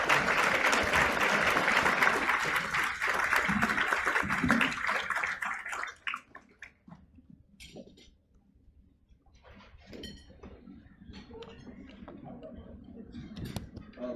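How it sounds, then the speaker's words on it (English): Gala audience applauds for Audrey and William Goldberg; steady, dense clapping fills the first six seconds and then thins to scattered claps and murmuring voices. "Let's give them a warm applause as they approach."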